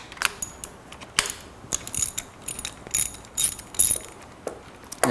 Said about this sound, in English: Then take my wrench, make sure that I break them loose,